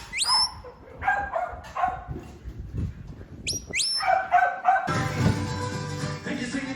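Sheep dogs working weaned lambs, with sharp, close barks and yips repeated in quick bursts over a busy outdoor background.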